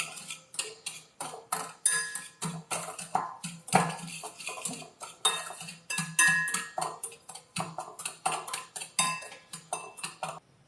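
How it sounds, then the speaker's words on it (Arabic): A spoon beats sugar and oil together in a bowl for orange basbousa, giving a quick, regular run of clinks and taps close by, with no talking. "حطيت السكر والزيت باش نخلطهم ساعة مع بعضهم باش الزيت يسيب نكهته مع السكر"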